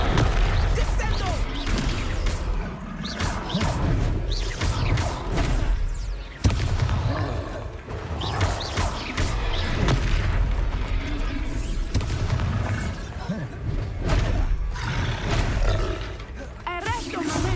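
Spell impacts and booming blasts in the Hogwarts Legacy video game during a Descendo slam attack, loud and dense with roaring creature cries and crashes, repeated throughout a chaotic battle under game speech.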